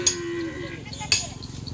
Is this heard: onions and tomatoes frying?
no